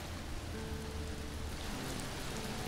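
Steady rain falls on a garden with a raised bed in a survival game, a soft, even hiss of drops that continues unbroken throughout.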